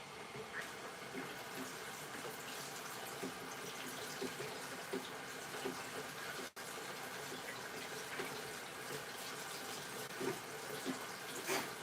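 Dishes being washed under a running kitchen tap: a steady, faint wash of flowing water with small clinks and splashes throughout, no talking.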